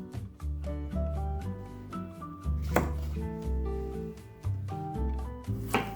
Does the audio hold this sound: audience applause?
no